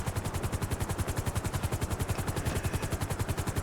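A helicopter touching down in a roleplay video game, its rotor thumping in a fast, steady rhythmic chop, moderately loud and alone without talk.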